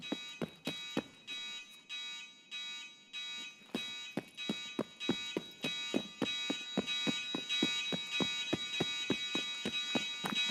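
Loud, fast beeping alarm from the video game Escape from Tarkov, a steady rapid train of sharp electronic beeps that briefly thins out, then continues insistently, with no talking.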